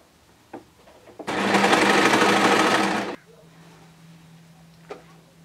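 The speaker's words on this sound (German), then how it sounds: "Meine geraden Nähte mache ich mit diesem dreifachen Geradstich." A sewing machine runs a triple straight stitch along a straight seam on a kids' hoodie: one loud, steady burst of stitching lasting almost two seconds, with quiet room sound before and after.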